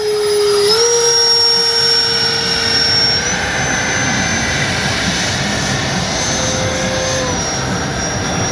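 An E-flite Habu XS 80mm ducted-fan model jet flies overhead with a loud, continuous high-pitched whine. The pitch steps up and down as the throttle changes.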